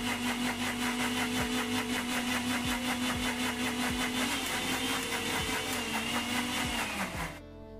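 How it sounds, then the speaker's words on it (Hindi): A blender whirs loudly and steadily as it blends a yogurt weight-loss smoothie with water, its motor pitch dipping now and then, before it cuts off abruptly near the end. "इसका कैप लगा के इसको अब हम करेंगे ब्लेंड"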